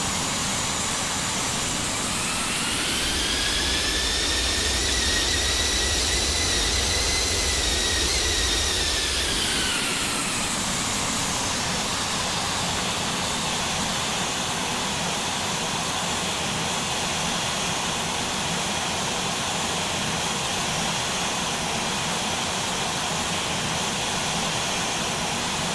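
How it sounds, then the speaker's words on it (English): Simulated Airbus A320 landing on runway 16 at Zurich in a flight simulator game, with a steady loud jet engine roar and rushing airflow, a rising then falling whine and low rumble near touchdown, then a continuous dimmer hiss of rollout. "We'll just take one final look at our landing onto runway 16 at Zurich as we descend out of the evening sky."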